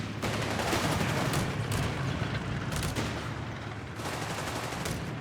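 Dense machine gun fire from the Company of Heroes 3 video game, rapid overlapping bursts rattling continuously and loudly with heavy booming undertones, and no voices on top.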